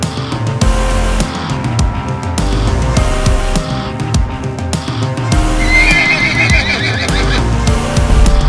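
A horse neighs in a high, wavering whinny partway through a loud stretch of hoof clatter and rumbling outdoor noise during horse riding.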